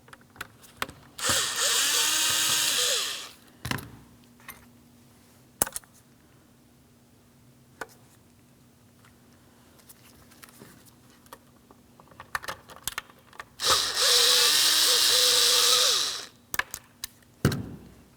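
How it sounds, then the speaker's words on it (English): A power drill backs out Phillips head screws on a 2006-2010 Hyundai Sonata mirror switch, two close, loud whirring bursts a dozen seconds apart, with light clicks and handling noises between them. "We can start removing our 4 Phillips head screws holding this in place."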